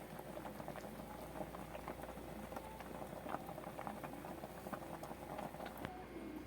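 Saluyot and bamboo shoot stew boils in a pot, a steady close bubbling and popping that runs throughout with no one talking.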